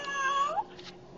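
Pet cat, LuLu, lets out a single drawn-out meow that rises and then bends downward, close to the microphone and clear, with a brief soft rustle after it.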